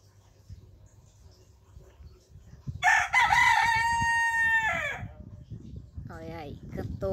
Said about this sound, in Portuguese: Olha aí, cantou Ganizé.